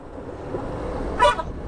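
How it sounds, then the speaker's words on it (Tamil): A single short car horn toot sounds near the end, a brief, fairly loud beep over a steady low rumble of road and engine noise on a forest road near Udaipur, Rajasthan. "அவர் எதுக்கு திரும்ப ஹார்ன் அடிச்சாரு"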